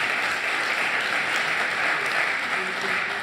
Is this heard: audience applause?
yes